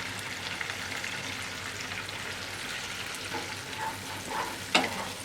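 Spices fry with tomato paste and dried chili paste in a pan for Bengali sorshe pabda, a steady close sizzle with scraping stirs, plus a sharp clink of a utensil near the end.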